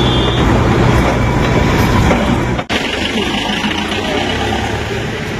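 Darjeeling toy train at the station, a loud, steady rumble of rolling rail cars with a brief dropout midway, heard close with no talking.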